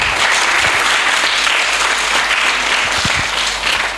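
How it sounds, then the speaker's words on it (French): Audience applause for student debaters at a high-school debate contest, steady and dense clapping from a crowd throughout, fading slightly at the end. "Il mérite des applaudissements."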